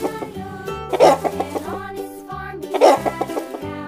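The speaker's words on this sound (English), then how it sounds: "This is rooster." Rooster crowing amid farm animal sounds, with two loud strained calls rising over a steady bed of tonal background music, close and clear with no talk.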